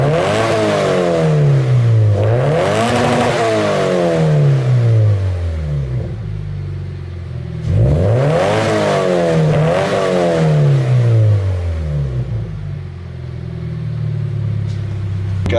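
A Subaru BRZ fitted with an Invidia N1 exhaust revs hard in two loud bursts, each climbing and falling in pitch before settling back to a rumbling idle, with no one speaking.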